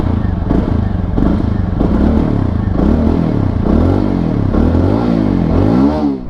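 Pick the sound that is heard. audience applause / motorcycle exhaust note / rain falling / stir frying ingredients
motorcycle exhaust note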